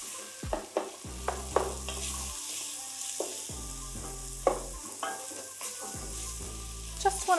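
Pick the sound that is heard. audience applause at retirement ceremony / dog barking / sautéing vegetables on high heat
sautéing vegetables on high heat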